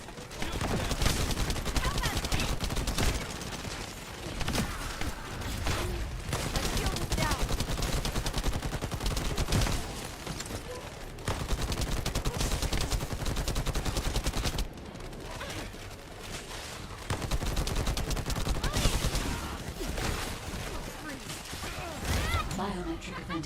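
Sustained turret fire in the shooter game The First Descendant: long rapid bursts of gunfire, dense and loud, broken by brief pauses, with a voice speaking over the action.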